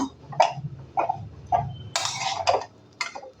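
A spatula stirring chop filling with fresh coriander leaves in a pan, giving sharp clinks about every half second and one longer scraping stroke, close and clear, with no talk.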